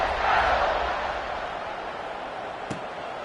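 A college football stadium crowd at an Ole Miss versus Mississippi State game roars as the kickoff approaches. The broad, diffuse cheering swells at first, then settles into a sustained distant rumble with one brief thud near the end.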